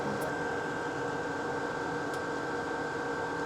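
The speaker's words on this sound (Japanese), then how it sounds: "こちらのエコフローのポータブルクーラーのウェーブ3です。" An EcoFlow WAVE3 portable air conditioner runs inside a vehicle set up for sleeping, a steady moderate whir with a constant tonal hum and faint airflow hiss, no voices.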